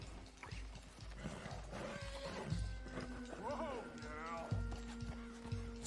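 Horse hooves plod steadily in the video game Red Dead Redemption 2 beneath a game soundtrack, with a horse whinnying faintly midway.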